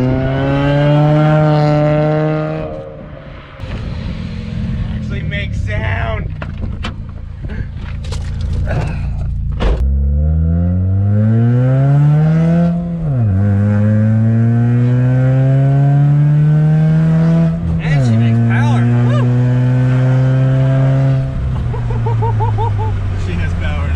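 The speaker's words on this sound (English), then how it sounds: "The idle sounds okay. It's just raspy." A 2007 Chevrolet Cobalt SS with a replaced downpipe, its raspy exhaust idling and then revving in several loud rising sweeps that drop back to idle, recorded up close while voices chatter in the background.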